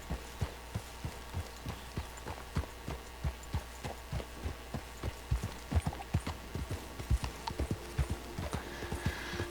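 Horse hooves clip-clop in a steady, even walking rhythm while a horse is ridden in Red Dead Redemption II, close and clear over a soft background hum.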